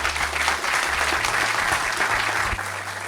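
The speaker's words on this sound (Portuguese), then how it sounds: "Uma salva de palmas" Sustained audience applause in a Brazilian lecture hall, a dense steady wash of many hands clapping at an even level for about three seconds, with a low hum underneath that drops away near the end.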